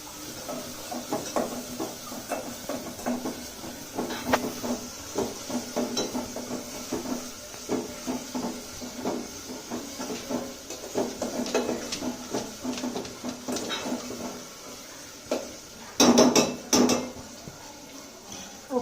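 Food is stirred in a metal cooking pot, giving a steady run of close scraping and clinking strokes from utensil against pot, with a louder clatter of cookware near the end.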